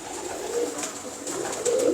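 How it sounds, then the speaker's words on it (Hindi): Teddy pigeons cooing close by, soft throaty coos rising and falling over a steady background hiss, with no talking. "ये दो मेरे सबसे पुराने मेन कबूतर हैं"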